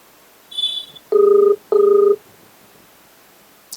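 A phone call to a district civil supplies official rings out: a short high-pitched tone, then two loud, evenly spaced ring bursts of about half a second each, clear and close, followed by quiet.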